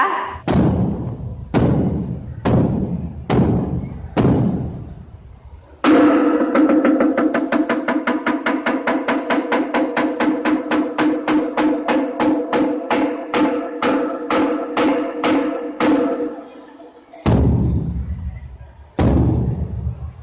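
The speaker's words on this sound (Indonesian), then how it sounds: "seperti apa bunyi kentongannya untuk menandakan waktu sholat?" A wooden kentongan slit drum is struck loudly to mark prayer time: several spaced beats, then a long rapid run of fast strikes, then a few more slow beats.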